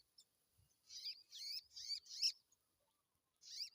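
Perched near a bird-trapping spot, a prinia gives four quick rhythmic chirping phrases in a row, then one more after a pause, moderately close and clear with no voices over it.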